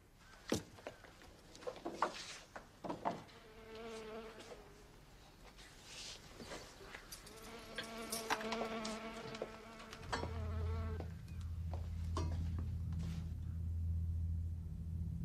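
Insects buzzing and whining in close bursts, first in short irregular passes and then in a sustained drone over a low rumble, with no speech.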